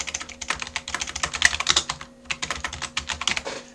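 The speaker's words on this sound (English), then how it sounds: "Type in whatever you want here." Computer keyboard typing, close and fairly loud, with quick irregular bursts of key clicks, a short pause midway, then more rapid keystrokes, no voices.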